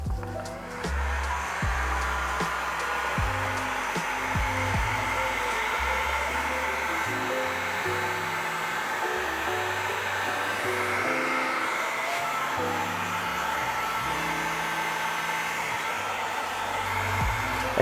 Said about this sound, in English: use my heat gun again, or you can use your hair dryer